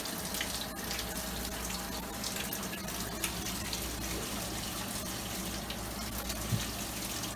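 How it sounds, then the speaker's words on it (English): Hot water runs steadily from a tap in a continuous hiss and splash, close by and even in level, with no talking. "Get you some hot water going."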